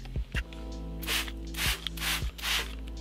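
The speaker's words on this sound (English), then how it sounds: "now I'm just gonna spray the interior" A few short hissing sprays of cleaner onto a car interior, close by, spaced about half a second apart, over a steady low hum with light tapping.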